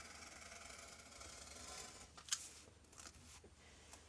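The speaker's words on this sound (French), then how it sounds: "Je vais venir couper le supplément." Scissors trim excess paper from a scrapbook album page, a few faint, close snips and crisp paper rustles in a quiet room.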